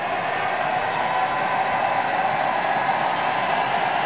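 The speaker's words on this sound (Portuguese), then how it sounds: "Um barulho ensurdecedor da torcida mexicana." A Mexican crowd at a beach volleyball final of the 2011 Pan American Games makes a constant, dense roar of cheering and applause, loud and sustained with no breaks.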